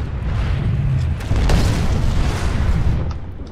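A deep, continuous boom and rumble from rocket explosions striking a Sunderer vehicle in a Planetside 2 battle, loud and sustained with a sharper burst midway through.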